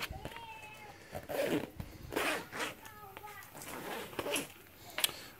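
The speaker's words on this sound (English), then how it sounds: "So I'll go ahead and zip this top one back up" A zipper on a MooseRacing dual sport fender pack is pulled closed in several short rasping strokes, close and quiet, while someone talks over it.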